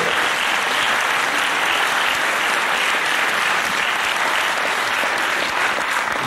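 Steady, loud applause from a crowd at a 1993 Breton music festival event in Redon, sustained clapping that holds evenly throughout with no pauses.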